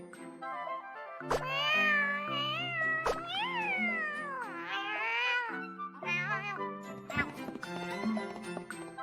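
A cartoon cat meowing repeatedly in clear, close, drawn-out calls with rising and falling pitch, several separate meows spread across the stretch, with no talk over them.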